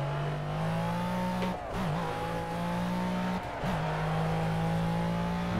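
A race car's engine in Project Cars drones with a strong, steady, loud tone, rising in pitch under acceleration, with two brief dips as gears shift before it climbs again.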